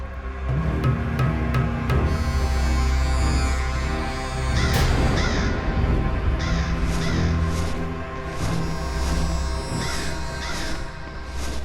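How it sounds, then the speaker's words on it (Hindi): A crow caws again and again, loud and close, in a series of harsh calls over a low, steady hum, with no voices heard. "खोदा पहाड़ और निकला कौआ।"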